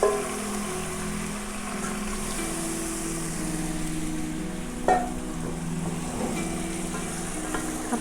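A lamb leg fries in a pan over high heat, giving a steady soft sizzle with occasional stirring scrapes and a clink, fairly quiet and without talk.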